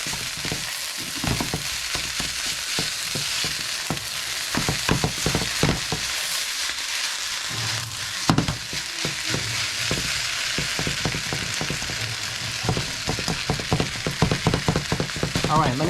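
Samoan fried rice with oyster sauce being stir-fried in a pan, a metal fork breaking up clumps: steady loud sizzling and crackling with irregular scraping, tapping strikes against the pan throughout.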